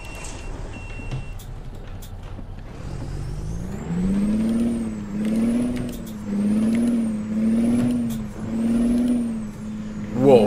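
Kenworth T800 truck with a straight-pipe exhaust and 18-speed gearbox, driven in American Truck Simulator: a deep droning engine that rises and falls in repeated revving waves through the gears, with an air-brake hiss and beeps early on.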